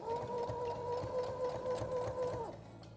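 A sewing machine runs steadily as it stitches a fabric sheep keepsake for children, a continuous motor whir with a fast needle rhythm that holds for over two seconds and then slows to a stop.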